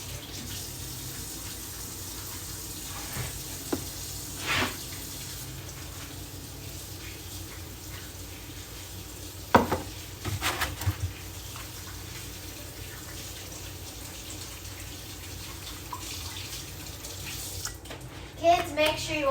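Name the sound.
tap water running while washing hands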